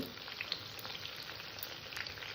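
Partly cooked chicken pakora goes back into hot oil for a second fry, giving off a faint, even crackle and light sizzle throughout.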